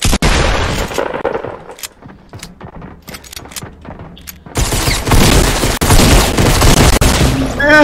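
Gunfire in Fortnite: a loud opening volley, then a quieter stretch of scattered single shots and impacts, followed by renewed heavy sustained firing close by.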